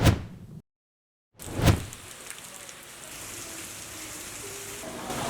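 Rain falling on puddles around a school campus, a steady soft hiss after a brief thud and a door-like slam near the start, moderately close with no voices.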